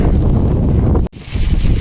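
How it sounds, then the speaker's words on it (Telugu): Strong wind on a hilltop about a kilometre up, loud gusting rumble buffeting the microphone, briefly dropping out midway before surging back. "గాలి అయితే చాలా విభస్తంగా వస్తుంది ఫ్రెండ్స్, అంతలా ఉన్నాయన్నమాట."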